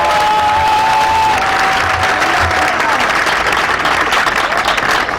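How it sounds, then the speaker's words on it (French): Loud audience applause filling the room, a thick, sustained wash of many people clapping with faint crowd murmur beneath. "Je vous demande d'applaudir M. Brice Lacruche Ayanga."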